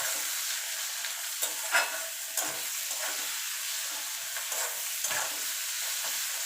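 Taro leaf paste fries and is stirred in a pan, giving a steady close sizzle with soft scraping strokes and a few light knocks of the spoon, with no talking.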